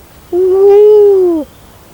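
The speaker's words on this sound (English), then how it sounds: "It was the sound of the owls" A single long, smooth tonal call from an owl at night, rising slightly then sliding down over about a second, clear and fairly loud against a quiet background.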